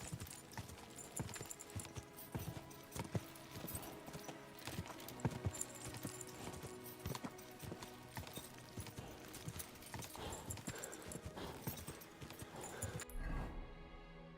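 A horse gallops in Kingdom Come Deliverance 2, its hooves pounding in a rapid, steady rhythm throughout, close and fairly loud, before cutting off near the end.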